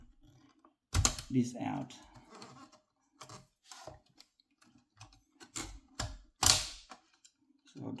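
A spring-loaded plastic piece is pried out of a Nespresso Vertuo Plus coffee machine, giving sharp clicks, scrapes and taps in irregular bursts up close, with a few brief spoken words.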